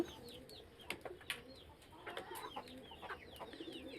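Silkie chickens cluck and chirp softly at a distance, short scattered calls over a quiet yard background with no talking.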